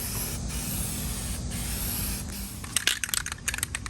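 A new can of hammered-finish spray paint sprays in a steady, strong hiss close up, followed by several short sputtering bursts near the end, with no voices.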